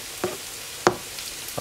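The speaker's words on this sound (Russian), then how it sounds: "А нам нужно, чтобы овощи жарились, а не варились. Отправляю лук." Onion tipped into a hot pan beside browned meat for chili con carne, giving soft sizzling bursts near 0.2 and 0.9 seconds over a quiet background hiss, with no talking.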